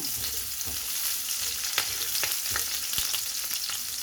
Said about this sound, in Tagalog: Igisa natin natin ang ating onion.